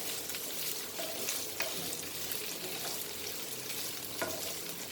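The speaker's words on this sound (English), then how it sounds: "Fry nicely so that the cumin and potatoes get nicely together, and the garlic flavor also, and the peri peri flavor." Potatoes fry in a pan with cumin, garlic and peri peri, giving a steady, fairly quiet sizzle with faint crackles and an occasional stir, and no voices over it.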